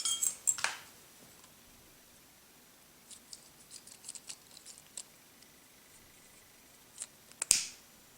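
Scissors snip bracelet thread on a butterfly-patterned bracelet, giving sharp close clicks near the start and end with a scatter of small light ticks in between, all in a quiet room.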